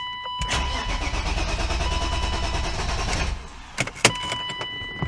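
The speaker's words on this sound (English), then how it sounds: "We're gonna crank over the engine a few times just to build up some oil pressure" A BMW S52 straight-six engine is cranked over by the starter with its coil packs removed, a steady whirring churn for about three seconds, then it stops, followed by a few sharp clicks and clunks nearby.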